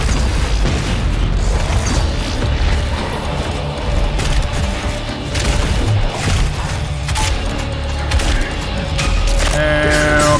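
Heavy explosions roar through a dense, loud wash of Doom Eternal combat sound, with deep booms and mechanical clatter running continuously for about ten seconds.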